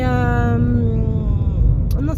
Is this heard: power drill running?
no